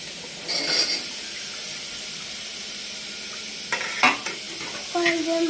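Carrots sauté in a pot for soup under a constant sizzle, with a few bursts of spoon scraping and clinking against the metal as they are stirred close by.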